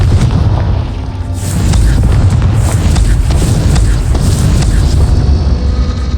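Continuous booming rumble of a Confringo spell explosion in the video game Hogwarts Legacy, loud and dense with low roaring bursts layered throughout and no speech.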